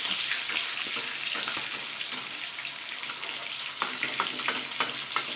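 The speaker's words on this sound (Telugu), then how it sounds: "ఇలా వేసుకుంటే అది కూడా నీట్గా ఫ్రై అవుతుంది అన్నమాట" Fish frying in a pan, a steady broad sizzle with crackling pops and occasional louder spits toward the end, close and continuous with no talking.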